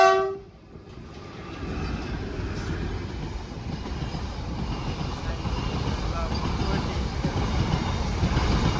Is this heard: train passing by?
yes